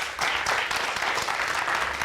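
A studio audience on a French-language morning talk show applauds warmly as a columnist arrives, a steady dense wash of clapping that holds at full strength across the whole moment.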